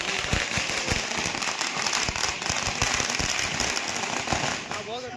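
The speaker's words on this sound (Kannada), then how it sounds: "ಒಳ್ಳೆ ಟೈಮಲ್ಲಿ ಕರೆಕ್ಟಾಗಿ ಪಟಾಕಿ ಹೊಡಿತವ್ರೆ" Rapid crackling bursts of firecrackers pop continuously in a dense, loud string, with voices mixed underneath.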